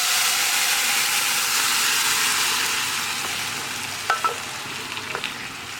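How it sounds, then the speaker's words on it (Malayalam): Erissery, a Kerala dish of Chinese potato and red cowpeas, being stirred in a hot pan: a steady soft sizzle and hiss, with a few light scraping taps of the spoon toward the end. "നന്നായിട്ടൊന്ന് ഇളക്കി കൊടുക്കുക."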